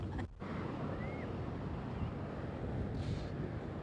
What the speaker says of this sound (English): We just arrived to see these waves and get into the action here.